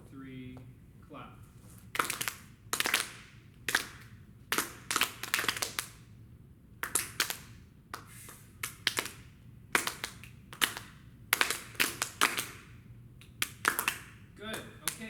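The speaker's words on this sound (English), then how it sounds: "So let's clap." Students clap a counted rhythm in a music lesson, a series of sharp group claps in short bursts with brief gaps, fairly close and steady in tempo.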